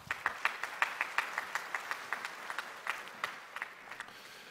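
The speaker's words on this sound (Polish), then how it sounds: "Poproszę o małe brawa." Small audience applause at an innovation awards event, distinct individual claps in a fairly even rhythm, modest and slightly distant, thinning out toward the end.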